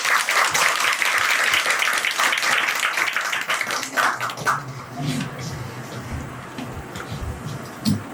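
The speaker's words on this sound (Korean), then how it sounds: "박수 하겠습니다." A congregation applauds at a Presbyterian church founding thanksgiving service, dense clapping for about four seconds that thins to scattered claps, with murmuring voices and room noise beneath.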